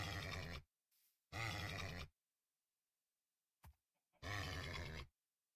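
Horse whinnies and grunts from the video game Minecraft, three separate loud bursts spaced by silence, with a faint brief snort in between.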